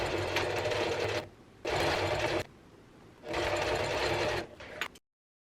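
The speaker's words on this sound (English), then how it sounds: "I'm just going to clip these together and sew straight down the center back to attach the two" Sewing machine running three close, loud bursts of rapid stitching, each about a second long with short quiet gaps, while the center back seam of a dress made from a bedsheet is sewn.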